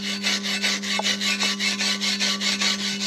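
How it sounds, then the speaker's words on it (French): A stiff brush scrubs metal back and forth to clear welding slag from steel angle, a rapid rhythmic rasping of about a dozen even strokes, close and alone over a low steady hum. "Un coup de brosse."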